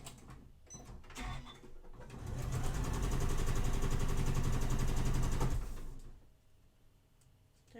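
A sewing machine stitches a seam on a lattice patchwork quilt block, running as a steady loud whir for a few seconds after softer handling noises, then stopping into quiet.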